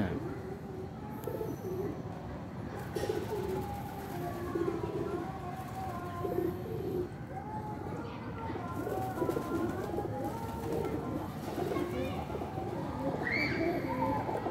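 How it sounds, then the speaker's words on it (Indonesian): A flock of tame pigeons at an apartment complex in Bandung, Indonesia, coos continuously close by, soft overlapping calls with occasional flutters and faint background murmur. "merpati jinak jinak"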